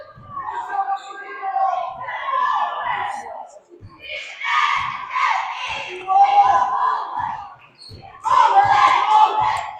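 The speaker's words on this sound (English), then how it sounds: "The Cougars still got their cheerleaders cheering them on." Cheerleaders cheer and shout at a girls basketball district semifinal, loud bursts of young voices rising and falling in waves with short pauses, and a ball bouncing faintly underneath.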